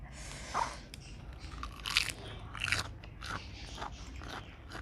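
Someone bites into fried small frogs. A few crisp crunches and chewing sounds come close to the mic at low volume, separated by short pauses.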